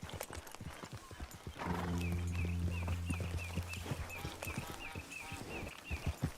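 Rhythmic clopping of horse hooves trotting in Red Dead Redemption 2, joined midway by a loud whinny, with the hoofbeats continuing close and steady.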